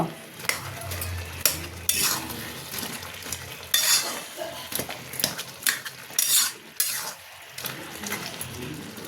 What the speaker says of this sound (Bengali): মূলো আলু সবই সিদ্ধ হয়ে গেছে ঘেঁটে দিচ্ছি একটু